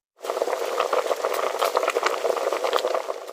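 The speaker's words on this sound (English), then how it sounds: "You put the kettle on and listen to the happy sound of the water starting to boil" A soft, steady bubbling hiss of water heating in a kettle, rising quickly and holding at an even level with faint crackles and pops.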